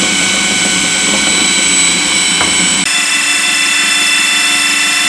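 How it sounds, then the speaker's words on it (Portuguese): An electric mixer beats cake batter with flour for a tres leches cake, a loud, steady motor whine with a harsh buzzing edge that shifts slightly in pitch partway through, with no talking. "Vamos batendo bastante até ficar homogênea com toda essa farinha"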